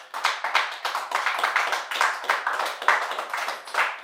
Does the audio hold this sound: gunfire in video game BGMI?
no